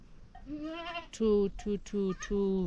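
Goat in a Zimbabwe village bleating in a series of about five loud, nasal, wavering calls, one long cry followed by shorter repeated bleats, close to the microphone with faint background noise.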